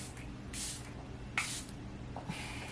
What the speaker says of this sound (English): Recently I've been using the Charlotte's Tilbury Airbrush Flawless Setting Spray.